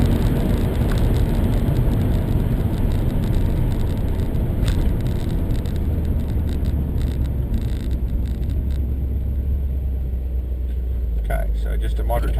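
A supercharged 355 VQ Holden Statesman with a 2.4 Whipple blower makes a moderate takeoff, its engine a steady, close, low rumble throughout with no sharp rise in pitch or loudness.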